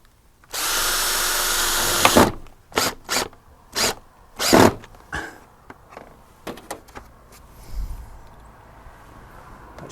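A power drill bores through a plastic bracket into a wooden fascia board: one long, loud, continuous whir, followed by several short, sharp bursts of the motor and then a few quieter mechanical clicks and knocks.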